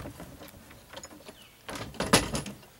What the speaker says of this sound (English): Lid comes off.